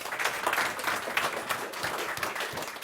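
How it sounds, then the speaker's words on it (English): Audience applause welcoming a speaker at a Free Market Road Show event: dense, steady clapping from a crowd that continues without a break and with no talk over it. "Please help me welcome Staffan with an applause."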